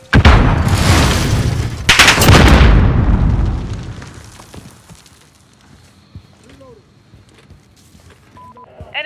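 Loud grenade explosion and bursts of gunfire in a Call of Duty: Modern Warfare team deathmatch, a heavy blast up front that rumbles away into quieter scattered shots and game noise over the following seconds.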